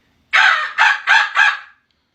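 A voice imitates a rooster crowing: four strong, closely spaced crowing bursts in quick succession, loud and up close with no other talk.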